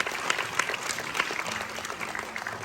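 A theatre audience at a school production of Matilda claps for the cast members taking their bows, a steady round of many hands with occasional louder claps, moderately distant, and a faint voice underneath near the end.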